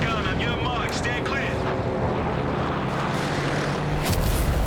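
A recon plane flies over a battlefield in the video game Company of Heroes 3, its steady engine drone blending into a dense wash of combat noise, with a voice speaking over it throughout.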